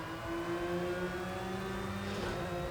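Race car engine in a sim racing game on the Nordschleife, a steady part-throttle drone in a high gear with constant harmonic tones holding level throughout, close and continuous with no talk.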